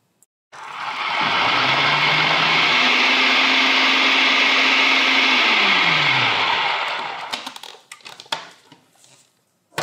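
A multifunction kitchen machine blending mashed potatoes with milk, a loud steady motor whir that starts abruptly, shifts pitch midway, then winds down, followed by clattering of the bowl and attachments.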